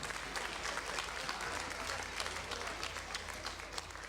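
Applause for the referees at a FIRST LEGO League Cargo Connect robotics competition in Ciney, 2022: steady, fairly faint crowd clapping throughout with no one speaking.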